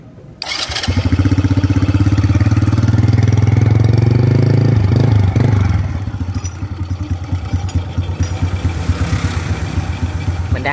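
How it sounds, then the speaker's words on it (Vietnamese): A motorcycle engine cranks and fires after an ignition repair with a backup-battery ignition module, catching into a loud, steady running roar for several seconds, then settling into a quieter, even idle. "mình sẽ đề máy cho nổ máy cho anh em nghe cái hiện tượng nó còn bị nổ chả ngược hay không nha"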